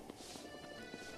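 Horse hooves clip-clop at a steady trotting rhythm in Zelda Breath of the Wild, with repeated soft thuds over a busy game soundscape of ambient music and effects.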